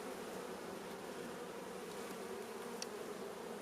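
Honey bees in an open hive give a steady, dense buzzing drone with no pauses and no voices, fairly faint and close.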